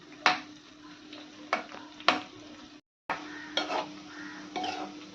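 Cabbage or cauliflower pakoda fry in hot oil with a steady low sizzle, broken by several sharp scrapes and clinks of a utensil stirring the pan, close and fairly quiet.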